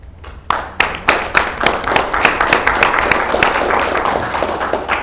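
A town hall audience applauds in support of a yes vote on a health care question. Separate claps start it off, then quickly build into steady, moderate applause from a crowd.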